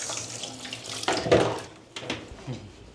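Running water from a tap rinsing a Maltese dog during its shower, splashing and gushing in uneven surges, close and fairly quiet, with no talking.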